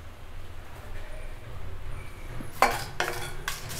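Cinnamon, mace, star anise and leaves roasting in a pan give a couple of short scraping stirs and clinks near the end, over a quiet background hum with no talking.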